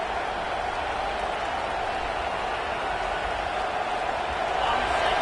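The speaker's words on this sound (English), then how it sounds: "Listen to this crowd just shaking the girders of this place, trying to help their defense." A dense, continuous roar of a large college football stadium crowd fills the space at a Notre Dame vs Duke game, steady and loud throughout with no clear breaks.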